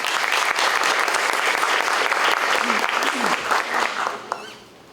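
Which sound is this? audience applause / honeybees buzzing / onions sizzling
audience applause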